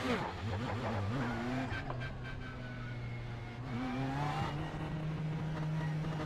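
A Ferrari GT3 race car engine running at Monza in the iRacing simulator, with a steady droning tone that shifts pitch as the car revs and changes gear, continuous and fairly close throughout.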